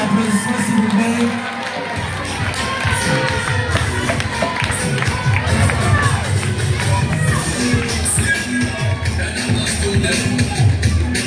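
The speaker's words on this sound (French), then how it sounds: "j'invite l'élève Mangandongo, sous les applaudissements s'il vous plaît." A crowd applauds and cheers continuously at a school cultural day, dense clapping with shouts mixed in, loud and close throughout.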